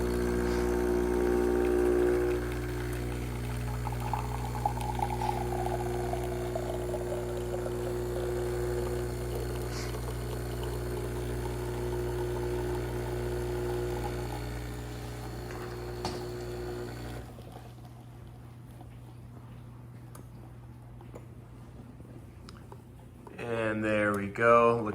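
A Joy Pebble 20-bar espresso machine pulling a double shot into a cup measure, a steady pump hum with a faint liquid stream under someone talking, then the hum cuts off and a brief rattle follows.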